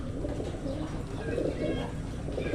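Hungry pigeons coo at feeding time, low throaty rolling calls overlapping in a continuous close chorus with some rustling.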